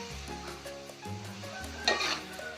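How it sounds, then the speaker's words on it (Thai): Hot water hits the oil in a wok of stir-fried eggplant and pork, and a sudden burst of crackling sizzle rises over a steady low background hum before settling back down. "เห็นไหมคะน้ำมันจะเดือดทันที"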